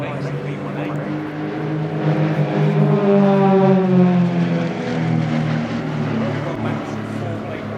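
An Extra 330LX aerobatic propeller plane with a 315-horsepower engine performs a flying display at RIAT, its buzzing drone swelling and shifting pitch as it passes overhead, then fading slightly.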